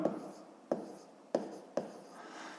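Pen strokes on paper while numbers are written out during a fifth-grade arithmetic calculation: four distinct taps and scratches spaced roughly half a second apart, faint and close.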